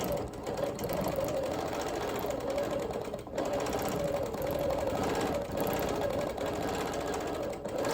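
An embroidery machine stitches small flowers and leaves into a quilt in a continuous close mechanical drone with a rapid needle pulse and a couple of brief dips.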